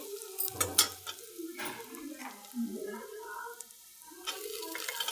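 Food sautés in ghee in a frying pan while a spatula stirs, giving a soft sizzle with scraping and clinking under someone speaking throughout.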